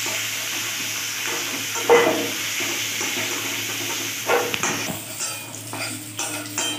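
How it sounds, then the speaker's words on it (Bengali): Carrots fry in hot oil with a steady, close sizzle, while a spoon stirs and clinks against the pan now and then, giving a few sharper knocks over the continuous hiss. "গাজরগুলো মিনিটে তেলে ভাজার পর আমি এগুলোকে তুলে নেব"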